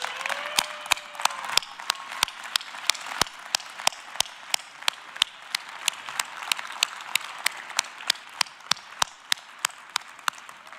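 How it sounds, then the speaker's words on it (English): An audience at a university health sciences commencement ceremony claps in a sustained round of applause, with sharp individual claps standing out over the broad crowd wash for about ten seconds. "a round of applause for that support network"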